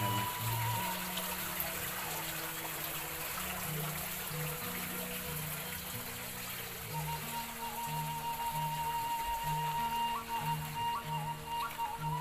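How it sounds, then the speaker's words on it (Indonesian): Fresh water flowing steadily in a mountain village, a continuous soft gushing wash, faint and distant, with low tonal background sounds layered underneath. "Airnya segar banget kan tuh."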